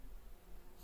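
Bees buzzing low and steady among sweet clover and alfalfa taller than a person, a faint continuous hum with soft rustling and no voices.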